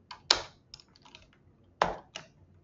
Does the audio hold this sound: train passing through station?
no